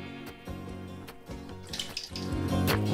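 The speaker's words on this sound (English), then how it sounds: "In the bowl, we're gonna add our buttermilk and oil." Buttermilk and oil poured into a mixing bowl for a chocolate turtle tray batter, a steady liquid pouring and splashing that swells louder toward the end, with no talking.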